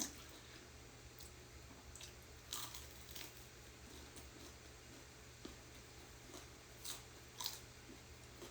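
Quiet, close chewing of food comes in soft, irregular crunches and wet squishes over a low background hum.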